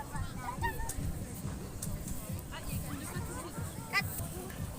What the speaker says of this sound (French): Les oies, poules.